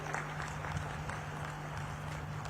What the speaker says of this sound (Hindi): एक बार हाथ उठाकर जोर से ताली बजाइए भाइयों बहनों